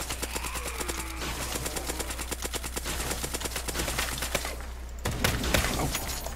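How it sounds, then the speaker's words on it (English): Rapid gunfire and crashing impacts from a shotgun fight in a Roblox zombie game, dense and loud with rattling bursts throughout and a heavier volley near the end, heard without speech. "Shotgun to the rescue."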